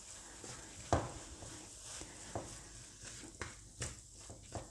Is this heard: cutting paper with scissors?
no